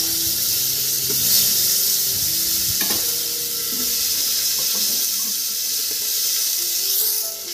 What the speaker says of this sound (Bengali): এই যে দিয়ে দিলাম একটু সাদা তেল, এর মধ্যে দিয়ে দেবো সব সবজিগুলো